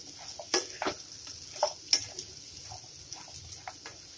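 Chunks of papaya, sweet potato, ridge gourd, drumstick and bitter gourd for shukto are stirred in a pan with very little oil, making a few soft scrapes and knocks over a faint, steady sizzle.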